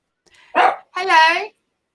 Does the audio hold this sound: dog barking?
yes